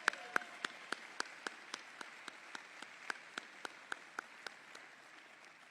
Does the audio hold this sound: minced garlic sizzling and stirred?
no